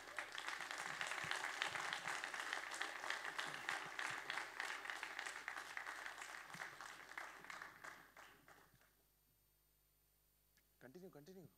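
An audience at a film masterclass applauds a guest coming on stage, with dense, sustained clapping that gradually thins and fades out, followed by a short pause before a voice begins talking.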